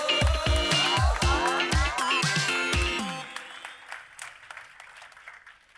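Loud musical chords with pounding low hits, then sustained clapping from a crowd at an awards ceremony that fades out over several seconds.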